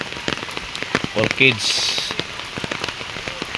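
Heavy, unrelenting rain pours down steadily in a dense, close hiss of drops striking surfaces, with a voice briefly speaking over it.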